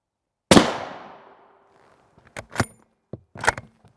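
A rifle shot fired at an alumina armor plate rated NIJ Level IV cracks out sharply and loud, its echo decaying over about a second, followed by a few shorter, fainter clanks and taps.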